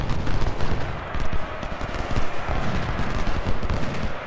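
Massed musket and rifle gunfire in an American Civil War battle video game, dense crackling volleys and rapid overlapping shots sustained throughout, loud and close with a rumbling low end.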